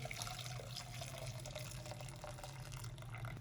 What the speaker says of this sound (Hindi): अब ये हम दोबारा से चाशनी डालेंगे हल्के हल्के हाथ से